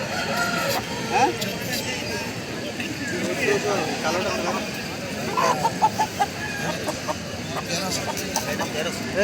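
Kadaknath and local chickens at a busy village poultry market cluck and call now and then, including a brief crow, under steady nearby talk and crowd chatter.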